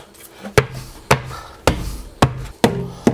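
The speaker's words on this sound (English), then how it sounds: "Little rubber mallet." Six evenly spaced, dull thumps from a rubber mallet striking close by, steady rhythm about every half second.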